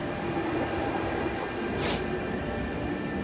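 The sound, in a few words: A train at Sunny Bay Station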